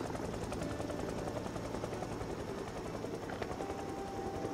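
Helicopter in a zombie video game, its rotor a steady dense drone that holds evenly throughout, loud and continuous with no talk over it.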